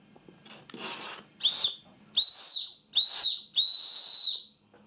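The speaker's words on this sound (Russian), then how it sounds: "свистит отлично свисточек" A small whistle blown in five short bursts, the first few breathy and rough, the later ones clear and shrill, close to the listener.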